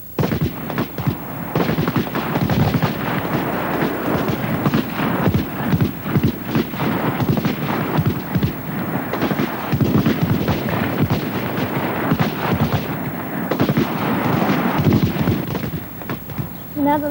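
A company of soldiers fires rifle volleys with live ammunition on a range, dense repeated sharp cracks and bangs running loud throughout, with voices mixed in.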